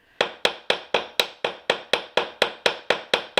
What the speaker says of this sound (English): So I'm going to start hammering a little harder down here.